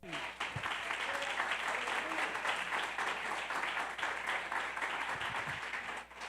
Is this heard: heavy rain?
no